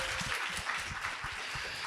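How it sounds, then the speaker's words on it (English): An audience at a panel event with the cast of Delhi Boys and Muslim Matchmaker applauds in a steady, even patter of many hands clapping at once, moderately loud and heard alone. "Let's give them a big round of applause for bringing this kind of programming."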